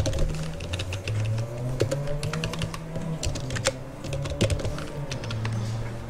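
Close, rapid clicking of keys on a computer keyboard as commands are entered in AutoCAD, with a busy irregular rhythm and a faint low hum behind.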